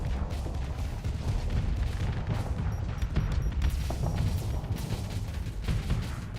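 Ships trade weapons fire around a low-tech station in the space game Starsector, a dense, continuous barrage of booming shots and crackling impacts, loud and unrelenting.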